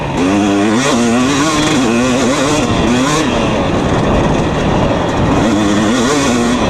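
A 2020 KTM 250 SX two-stroke dirt bike ridden on dry, loose ground, its engine loud and close, revving up and down in a continuous high buzzing wail with quick throttle swells.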